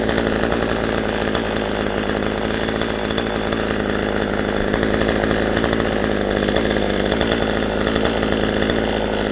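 A chainsaw runs continuously at high revs while cutting tree limbs, a loud, close, buzzing drone with slight pulsing in pitch as the chain bites, no talking over it.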